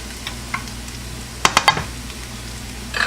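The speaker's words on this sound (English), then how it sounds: "cook the garlic for about a minute." Garlic cooks in a pan for chicken fried rice, a low steady sizzle close by, broken by a quick cluster of sharp spatula clicks against the pan and a few lighter taps.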